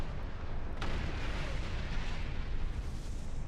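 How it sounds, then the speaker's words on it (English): Starship cannon fire in the space game Star Trek Online, a single sharp blast followed by a continuous dense roar of weapons and rumble, fairly quiet overall with no talking. "Nice cannon."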